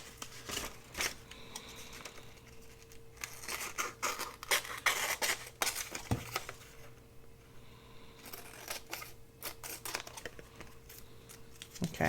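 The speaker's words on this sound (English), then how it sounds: "I'm just going to use my scissors" Scissors snip and paper rustles in quick bursts, crisp close-up cutting sounds with brief pauses and a faint steady hum underneath.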